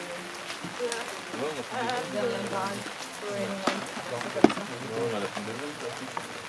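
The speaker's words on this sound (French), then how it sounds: "je suis sous la pluie" Rain patters outdoors at a work site near a dam as someone speaks French over it, the soft hiss and scattered drops staying faint beneath his voice throughout.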